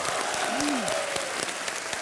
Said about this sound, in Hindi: तालियों के साथ इनका स्वागत कीजिए।